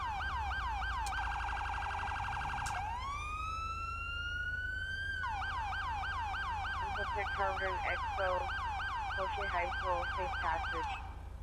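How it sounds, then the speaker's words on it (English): A new Federal Signal police siren in GTA 5 with the LSPDFR mod cycles through fast electronic yelp and wail tones, loud and continuous, with a long rising sweep partway through. "New federal signal siren in your game."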